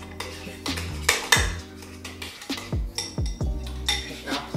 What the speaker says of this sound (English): Just give that a mix.